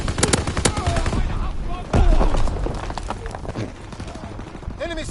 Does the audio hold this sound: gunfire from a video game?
yes